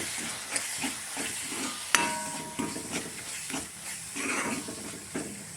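Spice powders, asafoetida and fenugreek among them, sizzle and hiss in a pan while being stirred with a spoon, a soft steady frying noise with occasional scraping clinks against the metal.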